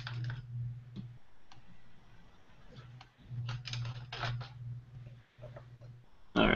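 Clicky computer keyboard typing during an online screen-share interview, bursts of key taps with short pauses over a steady low electrical hum, fairly quiet and close.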